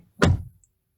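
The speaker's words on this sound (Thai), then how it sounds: "ดูเสียงปิดประตูกัน" A Haval Jolion B-SUV door swings shut in one solid, muffled thunk, close and brief, followed by silence.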